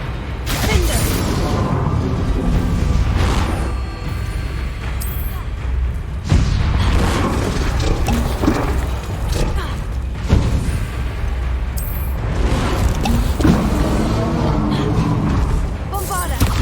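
Spell blasts from Bombarda and Confringo in the open-world action game Hogwarts Legacy, a run of loud booming explosions and crashes at irregular intervals, each burst followed by rumbling debris over continuous game effects.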